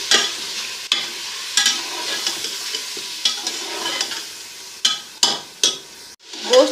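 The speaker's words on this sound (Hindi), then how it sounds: "और इसको हम तकरीबन चार से पाँच मिनट जो है वो अच्छे तरीके से भून लेते हैं।" Mutton frying with garlic ginger paste in a pot gives a steady close sizzle, broken by several spoon scrapes and stirring knocks.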